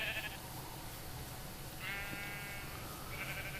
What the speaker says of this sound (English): what you've got is a barn with 4 each of every color wool sheep.